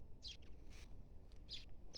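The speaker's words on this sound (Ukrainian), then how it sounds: "Пташки співають." Faint birds chirp in short bursts, several quick calls spaced apart over a low, quiet background hum.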